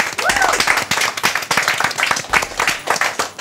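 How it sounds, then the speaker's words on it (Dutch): A crowd claps enthusiastically, dense continuous applause with a few voices mixed in. "Ik vraag om iedereen even een heel hard applaus."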